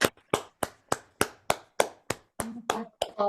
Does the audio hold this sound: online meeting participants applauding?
yes